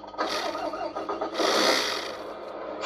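Simulated diesel engine start from the MFC-01 sound unit in a Tamiya King Hauler RC truck: a short cranking whir, then the engine catches into a louder roar and settles to idle, close and alone.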